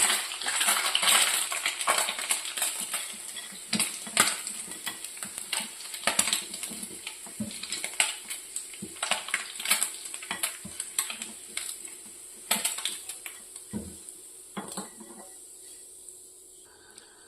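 Small anchovies (natholi) frying in hot oil in a Kerala-style coconut dry fry, with a faint sizzle under frequent sharp clinks and scrapes of a utensil stirring in the pan, close and irregular.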